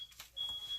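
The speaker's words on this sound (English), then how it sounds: "Hubby opened the oven door and the smoke alarm started going off." A household smoke alarm, set off when an oven door was opened, sounds a faint, steady high-pitched beep that starts partway through and holds to the end over quiet room noise.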